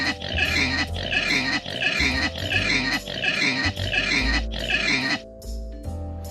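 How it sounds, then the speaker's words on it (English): A pig grunts and oinks in a rapid series of rough, loud snorts close by, the rhythm of squealing grunts repeating for several seconds before trailing into quieter snuffling. "This is a pig."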